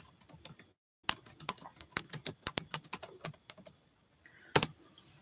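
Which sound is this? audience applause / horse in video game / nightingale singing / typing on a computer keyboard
typing on a computer keyboard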